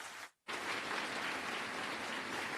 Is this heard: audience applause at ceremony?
yes